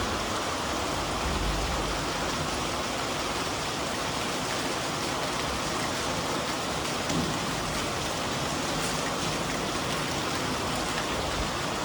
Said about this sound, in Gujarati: જો આવો વરસાદ આવે છે